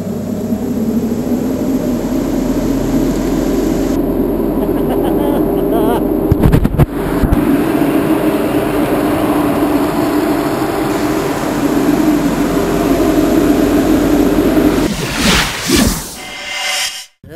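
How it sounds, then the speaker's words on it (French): A foam jet machine on a 500 base sprays foam at a foam party, a loud continuous roaring hiss that fills the whole clip, with a few sharp bangs and shifting noise near the end. "Voyons voir maintenant les machines à jet de mousse sur base 500."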